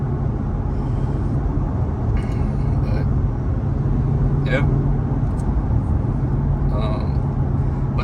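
A supercharged Dodge Hellcat Charger runs with a continuous low engine rumble and a steady whine underneath, while a person talks briefly over it from inside the car.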